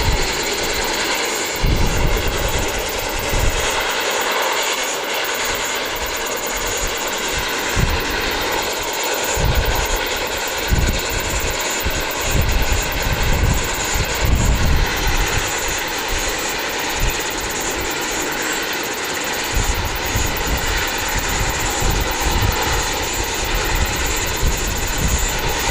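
Aircraft engines at Wellington Airport roar steadily and loudly up close for the whole stretch, with a constant whine over a rumbling low end and no voices.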